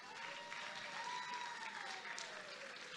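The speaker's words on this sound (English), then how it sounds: "Please give them a big round of applause" Steady applause from a crowd at the Miss World Nigeria 2026 beauty pageant, a continuous wash of clapping that holds evenly throughout.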